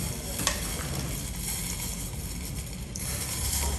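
Orange juice poured into a pan of sizzling olive oil and chopped onions, a steady frying hiss with soft stirring and a couple of light clinks, no talking.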